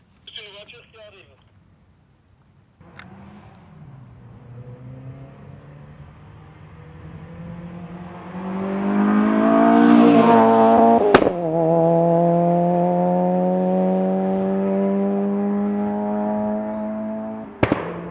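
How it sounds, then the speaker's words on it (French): A car approaches from a distance and grows louder as it draws near, its engine hum rising to a peak before settling into a steady idle close by, with voices talking at the start. "C'est une voiture qui arrive."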